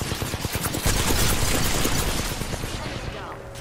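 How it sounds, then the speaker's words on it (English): Shotgun fire from the Apex Legends video game sounds as a dense, chaotic stretch of sharp blasts and impacts with no clear gaps. It stays loud throughout and thins out near the end. "Yeah, shotgun."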